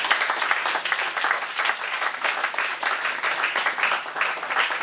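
A church congregation applauds in steady, dense clapping during an evangelical Sunday service, a continuous wash of hands that holds at an even level from start to finish with no speech.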